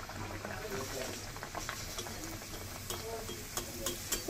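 A puri lowered into hot oil fries with a soft, bubbling sizzle, steady and fairly quiet, with a few brief clicks near the end.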